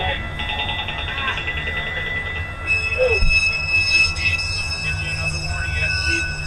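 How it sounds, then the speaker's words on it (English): Passing train with loud, sustained wheel squeal and rumbling railcars, heard close by throughout, with muffled voices underneath. "a train makes it difficult to make out what he is saying, so Sohai moves closer to hear the officer"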